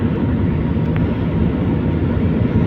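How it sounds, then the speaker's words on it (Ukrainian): A steady, fairly loud drone of an airplane passing overhead above fields and orchards in a Polish village, a continuous low rumble that holds even throughout with no voices. "Який літак?"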